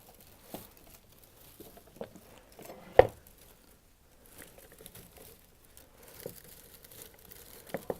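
Muehlenbeckia stems pulled from a woven flower lamp, with sparse close crackles and snaps plus one sharper break in an otherwise quiet space.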